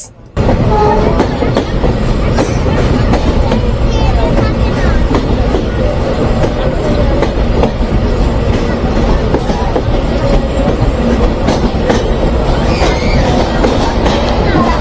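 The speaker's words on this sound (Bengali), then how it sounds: "মুবারকগঞ্জ রেলওয়ে স্টেশনে প্রবেশ করছে আন্তনগর কপোতাক্ষ এক্সপ্রেস" Kapotakkho Express intercity train on the Khulna to Rajshahi route pulling into Mubarakganj railway station, with a loud, close, continuous rumble and clatter of wheels on rails and occasional metallic squeals throughout.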